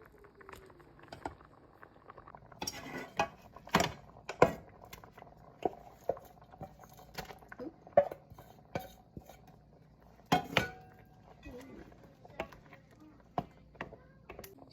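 Glutinous rice goes into a pot of boiling coconut milk for biko, making scattered clinks and knocks of a utensil against the pot with soft pattering between them, all quiet and close.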